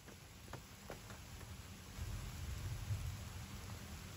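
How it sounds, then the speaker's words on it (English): Low rumbling thunder rolls beneath steady rain noise, swelling louder midway, with a few faint clicks early on. "Man, y'all hear that thunder?"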